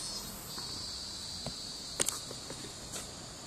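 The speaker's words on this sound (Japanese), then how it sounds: "そうですね、セミがまだ鳴いています。" Cicadas buzzing on a summer morning, a sustained high-pitched drone running through the whole stretch, with a few soft thumps and taps in the foreground and no one talking.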